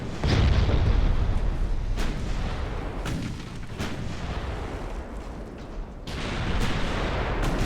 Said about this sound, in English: this is really strange, the fact that there are 14-inch guns.